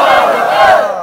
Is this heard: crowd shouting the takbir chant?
yes